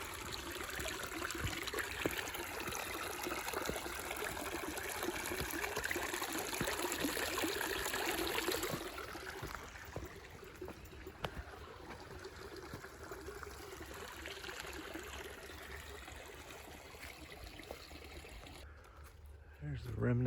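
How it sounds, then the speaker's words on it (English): Water in Fall Creek at Warriors' Path State Park in Kingsport, Tennessee, flowing and trickling along a woodland trail, a constant soft wash that is fuller at first and then thins out, with no voices over it. "I hear water down here."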